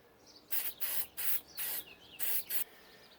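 Short bursts from a spray can lay a quick coat of finish on the chassis of a 1937 Westinghouse WR-212 radio outdoors. There are about five hissing bursts of roughly half a second each, with faint birds in the background.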